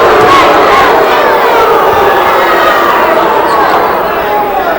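Loud, sustained roar of a basketball arena crowd cheering and yelling during a 2007 college game between Bradley and Evansville, a dense continuous wall of voices with no pauses.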